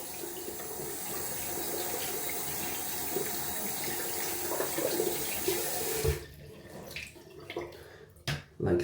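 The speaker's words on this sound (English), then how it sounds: "So you need to wash it a little bit thoroughly to get out all the soap residue." Tap water runs steadily over a cat whiskers shaving brush knot being rinsed of soap residue, a continuous close splashing that cuts off abruptly, followed by a few soft drips and wet squeezing sounds.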